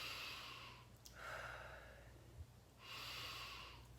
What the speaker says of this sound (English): So this is called a 360 degree breathing